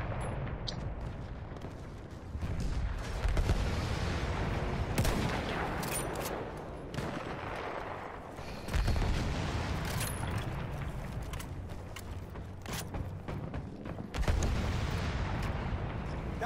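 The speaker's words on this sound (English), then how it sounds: "Trying to shoot somebody off the blimp. I'm trying to shoot him out of the little cabin in there." Sustained heavy gunfire in a video game, aimed at a blimp and its small cabin, with dense overlapping shots and explosive bursts rolling loudly and continuously throughout.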